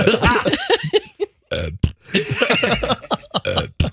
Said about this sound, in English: I love it when she burp farts.